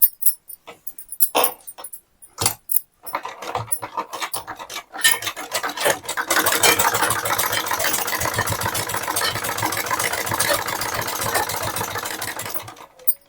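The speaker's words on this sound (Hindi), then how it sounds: "इसी तरह से आपको पूरे में सिलाई चला लेनी है।" A sewing machine stitches the back neck of a blouse, starting with scattered taps and short bursts, then settling into a steady, close, rapid mechanical whirr for several seconds before stopping.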